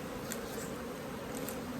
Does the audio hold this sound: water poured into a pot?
no